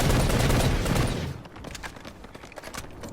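Shotgun blasts ring out in PlanetSide 2 close combat, a dense loud burst of firing at first that gives way to fainter scattered shots and clatter.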